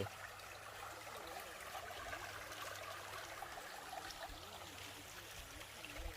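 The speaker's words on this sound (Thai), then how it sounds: "ข้างนี้ก็น้ำไหล" Water flows steadily on a frog and fish farm in rural Thailand, a continuous close-up rush and trickle heard alone with no voices.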